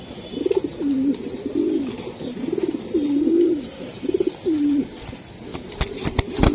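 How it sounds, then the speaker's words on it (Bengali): A grizzle racing pigeon coos up close in a run of loud, rolling coos at regular intervals, followed by sharp clicks and rustling near the end. "জনি ভাই এর একটা কবুতর গ্রিজেল ভাই। গ্রিজেল কবুতর ভাই।"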